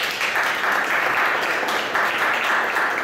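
Steady applause from an audience at a talk on dharma and dreams, a dense even patter of clapping that holds at one level throughout, with no voices over it.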